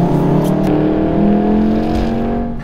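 A 2018 VW Golf R pulls hard at full throttle, its engine note loud, close and continuous as the revs climb steadily through the run.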